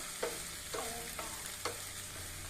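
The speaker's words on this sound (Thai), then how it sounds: "แล้วเราก็ใส่กุ้งล่ะแล้วเราก็ผัดนิดนึง" Shrimp stir-fry in a pan with basil leaves, a steady sizzle broken by four evenly spaced scraping strokes of a spatula, close and moderately quiet, with no voices.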